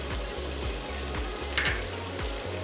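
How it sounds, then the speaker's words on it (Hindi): Chicken macaroni frying with black pepper in a pan, a loud steady sizzle broken by rhythmic stirring scrapes, close and without talk. "इसे भी हम अभी 1 मिनट के लिए फ्राई कर लेंगे।"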